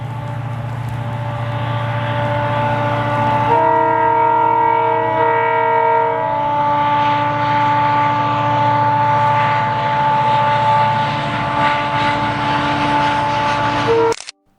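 An EMD diesel locomotive running fast on a ghat section on a hot day, a loud steady engine drone close by with a sustained tonal horn-like hum rising in the middle and continuing until an abrupt cutoff.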